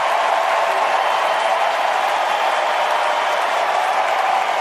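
A large crowd at a political convention claps and cheers, a loud, continuous wash of applause that holds steady without a break.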